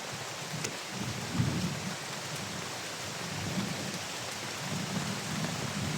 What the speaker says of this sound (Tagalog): Grabe yung ulan ba?